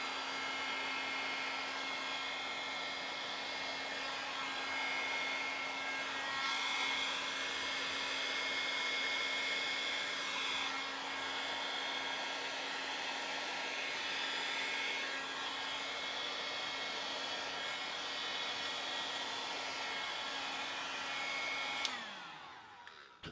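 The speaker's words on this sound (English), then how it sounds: "I'm going to blow from here towards the green" Handheld blower, likely a hair dryer, pushing acrylic paint across a lobster artwork: a steady close whine with a constant tonal hum, running unbroken for over twenty seconds before cutting off, alone with no talk.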